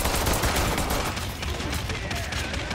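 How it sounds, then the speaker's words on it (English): Strix's pistol in the hero shooter Paladins fires flare shots in a dense, continuous stream of crackling shots, loud and close, blended with busy game noise for a few seconds. "I didn't know that's what his pistol does, like the little flare."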